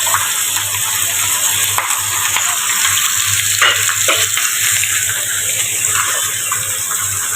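Pangas fish head frying in hot oil in a pan gives a loud, steady sizzle with a dense, constant hiss throughout, close up and without talk.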